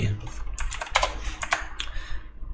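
Python code is typed on a computer keyboard in a quick, irregular run of close clicking keystrokes with a few louder taps, faint and alone.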